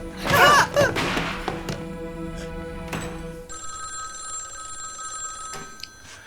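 A telephone rings with steady electronic tones in a tense domestic scene, just after a burst of loud shouting, thuds and crashing.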